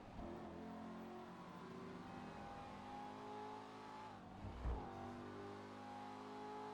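An Emperor ETR1 sports car engine in GTA Online drones steadily at high speed, its pitch sustained and slowly shifting, with a brief thump and rev change near the end.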